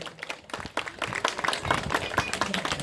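Audience applause welcoming guests at the opening of a children's song festival, steady clapping from a crowd running throughout at moderate level, with a few louder individual claps.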